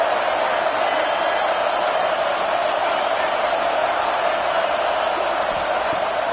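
Dense, sustained roar of a college football stadium crowd during a defensive stand, a constant wash of many voices with scattered whoops.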